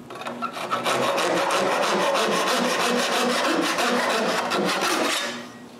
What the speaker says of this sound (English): Mark the shaft and cut it.